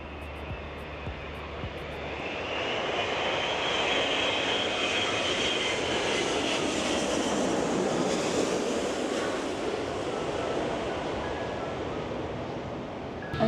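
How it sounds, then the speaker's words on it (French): A Korean Air Airbus A380 airliner comes in to land near Los Angeles, its jet engines building to a broad, loud roar that swells over several seconds and then holds steady, with no voices heard. "dans quelques minutes, il y a un avion de Korean Air qui va atterrir"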